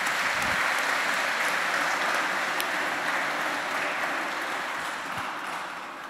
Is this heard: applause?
yes